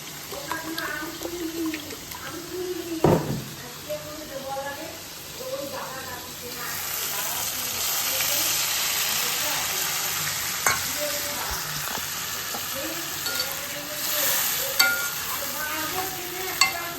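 Fish mixed with curd and mustard paste hits a hot pan, and a brief clatter gives way to a steady hiss and sizzle that swells as water is added, while a voice talks faintly under it.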